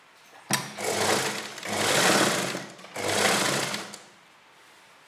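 An electric sewing machine runs in three sustained bursts, stitching pleats into an Afghani salwar, each run a loud, close, rapid whirring chatter separated by brief pauses, with no speech.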